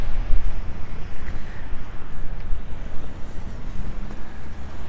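Wind buffeting a handheld microphone during a walk through snowy downtown Regina in April, a loud, constant low rumble with gusty surges and no speech.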